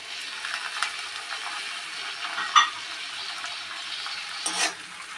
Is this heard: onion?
yes